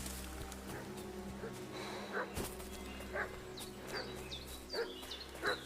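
Dog barking in the game Kingdom Come: Deliverance 2, several short distant barks scattered over a steady ambient bed, with faint voices in the background.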